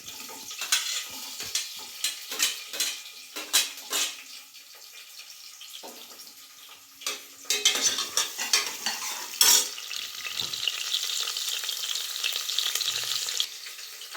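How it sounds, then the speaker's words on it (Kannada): Chopped onions for tempering drop into hot oil in a pan already holding bay leaf, fennel and spices, sizzling steadily and loudly while a spoon stirs and scrapes in repeated sharp bursts. "ಈರುಳ್ಳಿನ ಹಾಕೊಂಬಿಡೋಣ."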